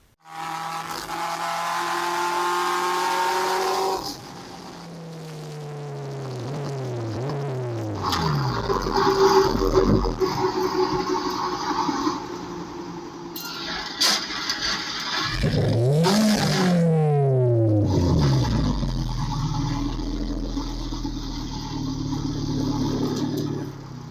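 A car with a failing gearbox drones and revs unevenly, with whining, sliding pitches and rough grinding noises as it drives, no voices present.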